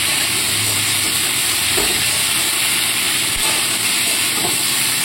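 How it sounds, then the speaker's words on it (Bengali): Onion and potato frying over a high gas flame give a loud, steady, broadband sizzling hiss that fills the whole span without pause. "তাতে গ্যাসটা যেহেতু জোরে দেওয়া রয়েছে, তাতে কিন্তু পেঁয়াজ আর আলুটা সুন্দরভাবে ভাজা হয়ে যাবে"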